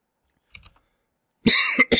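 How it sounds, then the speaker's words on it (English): Two quick soft sounds, then a loud, harsh cough close by, followed by a second short burst. "Pardon me, I'm coughing."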